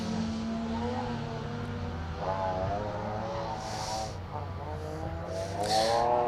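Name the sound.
rally car driving through a stage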